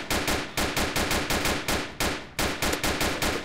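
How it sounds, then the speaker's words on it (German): Gunshots are fired at the player in the video game Notruf Hamburg: a fast, close string of sharp, loud shots in quick bursts, with a brief pause before the firing resumes. "Will er jetzt auf mich schießen oder was?"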